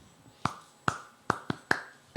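A single person claps for herself at a reading audition: six sharp, isolated claps spaced irregularly, close and crisp against a quiet room.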